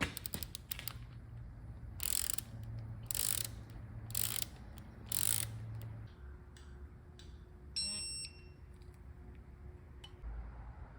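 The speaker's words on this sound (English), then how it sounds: "I've got a little bit of anti-seize on all the nuts, and I'm torquing them up to about 30 in sequence" Ratcheting wrench torquing anti-seize coated head nuts in sequence on a Caterpillar 3406E diesel engine, with several bursts of close mechanical clicking separated by pauses, a quieter shop background and a brief metallic tone near the end.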